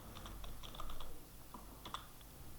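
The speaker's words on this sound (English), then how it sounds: "Why did I type it with E?" Typing on a computer keyboard, a quick close patter of key clicks in short bursts with brief pauses, fairly quiet and alone without talk.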